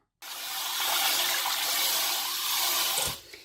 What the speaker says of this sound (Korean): 그래서 소금물이고, 그러니까 씻어 보도록 하겠습니다